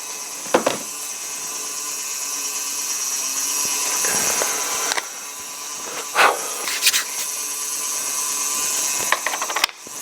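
Heat gun blasting a pottery piece on the wheel for a lamp, a steady loud hiss running throughout with a few brief knocks and bumps, no voices.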